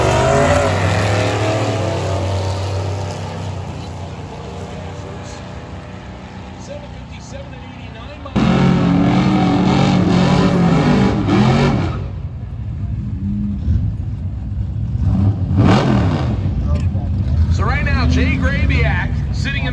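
A 1963 Studebaker Lark gasser and another drag car idle loudly at the starting line, then launch with a sudden roaring blast that fades as they race off, while a track announcer talks over the whole run.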